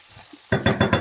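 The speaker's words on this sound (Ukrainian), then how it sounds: "Смажимо також до рум'яної скориночки" Eggplant sizzles in hot oil in a pan after a quiet start, with four quick, evenly spaced bursts of crackling as it is stirred.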